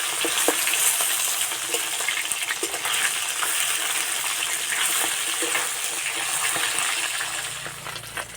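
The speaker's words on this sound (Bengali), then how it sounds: "ঠিক এইভাবে একটু লাল লাল করে ভেজে নিতে হবে।" Katla fish fries in hot mustard oil in a wok, giving a steady, close, busy sizzle with small crackles and pops throughout, then easing slightly near the end.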